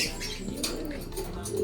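Pigeons coo softly in a loft, several low, rounded calls rising and falling over a steady murmur of background noise, with faint chirps and brief wing sounds mixed in.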